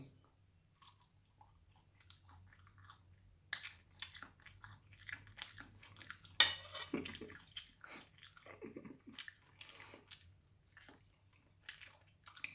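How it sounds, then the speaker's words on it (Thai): Spicy cheese ham sausage is bitten and chewed close up, with quiet, scattered crunchy and squishy mouth sounds over a faint low hum. "เดี๋ยวขอกัดอีกคำหนึ่ง"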